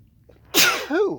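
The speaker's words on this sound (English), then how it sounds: "excuse me, I'm going to sneeze" A single loud, close sneeze: a short intake of breath, then a sharp explosive burst trailing off into a brief voiced tail.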